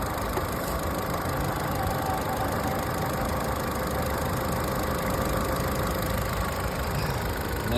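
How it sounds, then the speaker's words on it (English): A car engine idles smoothly and steadily right after new spark plugs and a full coil pack were fitted, a loud, even, close-up hum with a faint buzzing edge and no misfire, with no talking over it. "Got a nice, quiet, smooth running, buzzsaw engine, baby."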